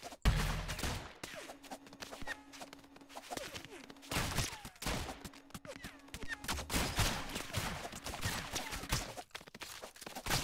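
Repeated bursts of video game gunfire crack through a chaotic modded multiplayer round, with rapid volleys and scattered single shots close and loud, mixed with footsteps and a steady tone.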